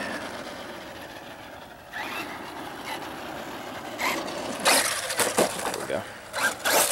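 Traxxas Maxx RC truck with 100wt shock oil on 3S power, motor whining and tires crunching over rough ground, landing with heavy bursts and scraping after small jumps, loud and close.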